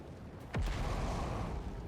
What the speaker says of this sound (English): Oh yeah, that was an explosion. That wasn't good.